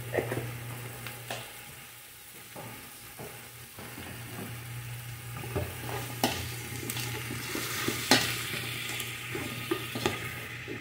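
Food sautéing in a pan for sinigang with plenty of black pepper, a steady sizzle broken by stirring scrapes and clinks of a utensil, close and moderately loud with no talk.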